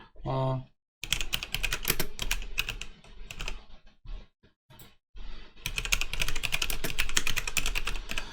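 Rapid typing on a keyboard while writing a note in Google Keep, steady clattering keystrokes in bursts with brief pauses, close and fairly loud, after a short spoken phrase at the start.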